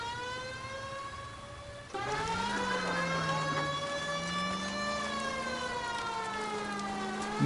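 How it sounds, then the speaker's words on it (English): Video game police sirens in L.A. Noire: a wailing siren rises and falls steadily, joined partway through by a second louder, lower wail, both sustained and fairly close. "I hear sirens."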